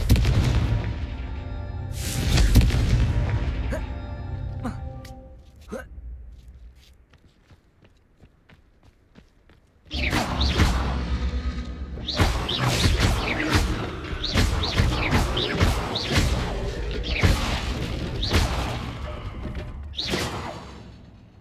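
Confringo blasting spells explode in Hogwarts Legacy, a string of loud, sharp booms and crackling bursts repeating in quick succession, with a quieter lull before the barrage resumes.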